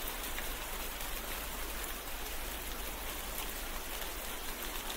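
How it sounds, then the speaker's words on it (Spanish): Moderate rain falling at roughly 10 to 16 millimetres of precipitation, a steady, dense hiss of drops on surfaces that holds at an even level throughout, with no voices. "Lluvia moderada. Es una precipitación de 10 milímetros a 16 milímetros."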